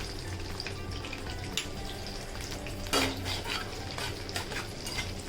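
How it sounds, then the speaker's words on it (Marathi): Dry fruits roasting in homemade ghee in a pan for mango sheera, a steady close sizzle with stirring scrapes and a sharp utensil knock midway, no one speaking. "ड्रायफ्रूट्स आपण चांगले तुपामध्ये भाजून घेणार आहोत"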